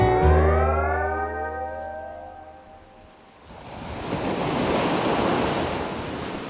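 Ocean surf rolling onto a wide white-sand beach at Poipu, Kauai, Hawaii, a broad continuous wash of breaking waves with wind, loud and close, after an opening of low tonal rumble.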